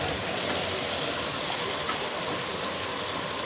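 Pointed gourd (parwal) fries under a lid in oil, making a steady, even hiss with no break and no talk over it.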